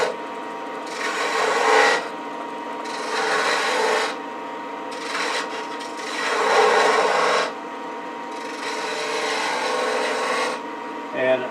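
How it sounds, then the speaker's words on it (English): A woodturning tool cuts a V-groove into wood spinning on a lathe, making loud, rough scraping passes of a second or two each, separated by short pauses over a steady motor hum. "let me go ahead and make a V-cut to kind of mark where that ball is going to be"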